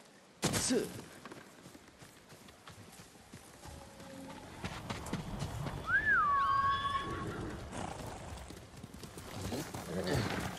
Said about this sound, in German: ist ein braves Pferd